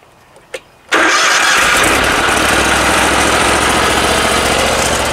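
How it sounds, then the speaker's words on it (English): A 70HP engine on a trailer-mounted cold-water sewer jetter cranks after a faint click and catches, then runs steadily at a loud, close, even idle with no talking. "We're gonna start with this engine here."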